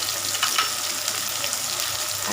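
Green chillies hitting onions frying in a pan bring a steady, loud, close sizzle that holds evenly throughout with no voices.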